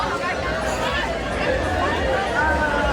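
A dense carnival crowd in Rio de Janeiro fills the air with steady babble and shouting, loud and close throughout, with voices layered over constant street noise.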